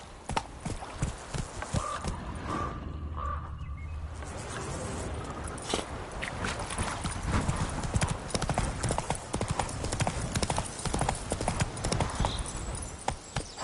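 Geralt's horse Roach gallops in The Witcher 3, a rapid, steady drumming of hoofbeats that carries nearly the whole clip, close and fairly loud.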